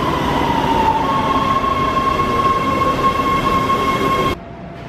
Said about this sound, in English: We're gonna get on the Metro now, head back,